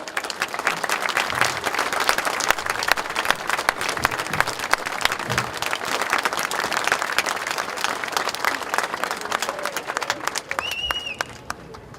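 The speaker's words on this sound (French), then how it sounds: "Alors merci d'applaudir très fort ces visages différents." A church audience applauds a choir energetically, dense clapping that fills the room steadily before thinning out near the end.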